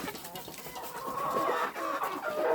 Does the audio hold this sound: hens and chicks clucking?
yes